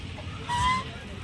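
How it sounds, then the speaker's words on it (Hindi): Ducks at a temple pond at the source of the Gomti River honk once, a short nasal call over a low background rumble. "और इन बतखों को जो है ऐसे प्रसाद खिलाओ"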